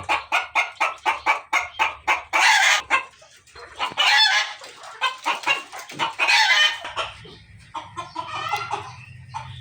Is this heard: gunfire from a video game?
no